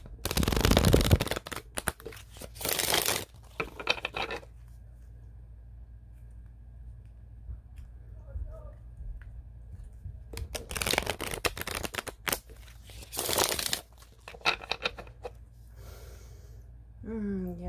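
Tarot cards being shuffled and drawn in a quiet room, with loud bursts of riffling and card handling at the start, around three seconds, and again from ten to fifteen seconds, separated by near-silence with a faint background hum.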